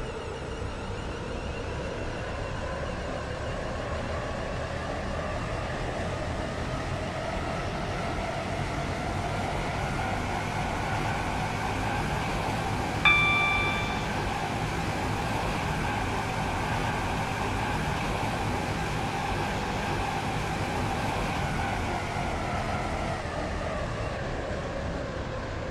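Class 707 electric train running on the Stepford County Railway in Roblox, a steady continuous rumble with a rising and falling motor whine throughout, a brief short chime partway through, no talk.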